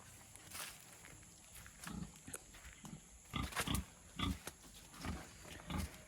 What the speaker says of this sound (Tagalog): tapos may baboy kami dito mga kabayan